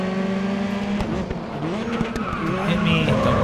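A race car engine revs as tires squeal and skid through a corner in GRID Autosport. The sound is loud and continuous, with shifting engine pitch and scraping tire noise.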